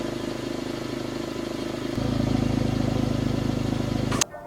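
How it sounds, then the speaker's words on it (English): A Mercedes E53 AMG engine idles steadily in Sport Plus mode with its exhaust flaps open, a low rumble that steps up louder partway through before cutting off abruptly near the end. "it also opened up the flaps in the exhaust system to let this engine breathe"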